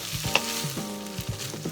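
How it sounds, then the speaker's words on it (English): Egg fried rice being stir-fried in a pan, with a steady sizzle and spatula scraping heard up close while a musical tone line carries underneath throughout. "stir fry the ingredients for just a minute or so"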